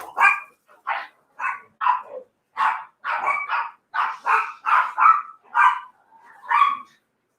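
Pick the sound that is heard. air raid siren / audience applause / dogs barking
dogs barking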